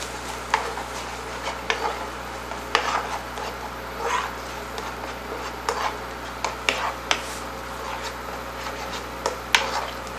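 Eggs whisked into chorizo for breakfast give off a steady run of light scraping, clicking strokes with a steady rhythm, close and fairly quiet.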